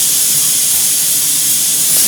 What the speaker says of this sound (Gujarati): રસોઈની સીટી વાગી ગઈ છે કુકરમાં શાક મેલેલું છે